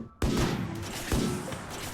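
Gunfire in the video game RimWorld during an extreme desert battle, two heavy booming bursts about a second apart, loud and close, each trailing into a rumbling wash.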